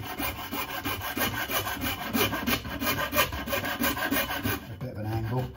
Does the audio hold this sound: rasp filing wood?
yes